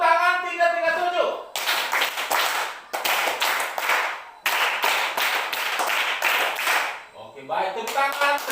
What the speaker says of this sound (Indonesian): Tepuk tangan 337.